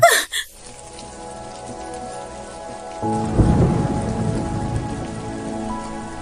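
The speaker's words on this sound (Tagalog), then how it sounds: "Wow! Ang lakas ng ulan." Heavy rain pours steadily with a deep rumble of thunder swelling in the middle, loud and close, with no voices over it.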